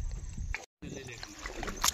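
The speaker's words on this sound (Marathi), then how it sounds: "हे मामा येते आता होडी चालवत" A rowboat is paddled through shallow water near muddy farmland, with soft sloshes and splashes from the paddle and a short gap, while people talk nearby.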